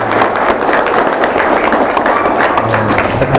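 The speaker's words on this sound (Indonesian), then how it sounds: "Mana tepuk tangannya dong?" Audience applause at an Indonesian school event, a steady dense wash of clapping at fairly close range with no break from start to end.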